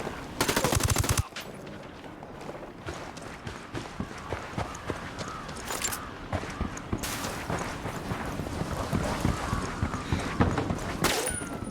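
Rapid automatic gunfire in the video game Ghost Recon Wildlands, a loud burst at the start followed by sustained crackling shots and bursts of varying distance throughout.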